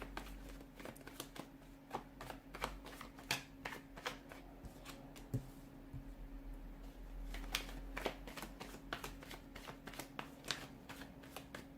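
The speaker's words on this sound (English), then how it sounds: "let's give the cards a shuffle" Tarot cards are shuffled over and over, a quiet run of soft riffling flicks and taps close by, with no voices.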